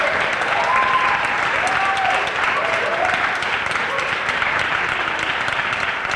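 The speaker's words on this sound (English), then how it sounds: "I want to give all of you a round of applause to start off our afternoon" A crowd at a high school academic and military recognition ceremony claps steadily throughout, dense and sustained applause filling the room, with a few voices faintly audible underneath.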